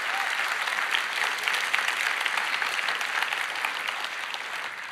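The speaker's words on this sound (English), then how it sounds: "I'd like to give them a round of applause for keeping the internet safe." A conference keynote audience gives a round of applause for a safety team: steady, even crowd clapping from start to finish at moderate volume, with no talking heard over it.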